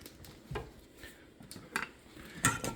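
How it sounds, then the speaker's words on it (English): No-bake chocolate oatmeal cookie mix stirred in a pot, with a few scattered scrapes and clinks of a utensil against the pot over a faint background. "Dump that in there and then start getting it all stirred up"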